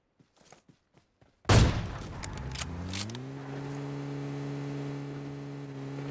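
A sudden loud burst of gunfire in the mobile battle game PUBG Mobile follows a few faint clicks, then a vehicle engine starts and hums steadily, with no talking.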